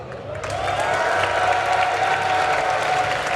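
Spectators at a DreamHack League of Legends esports event applaud and cheer for Fnatic, a swelling burst of clapping and crowd noise that builds quickly and holds loud for a few seconds.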